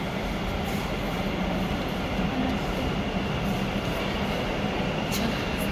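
A metro train runs at a station in a steady, loud rumble of wheels and carriage noise that fills the whole stretch without pause, with no speech over it.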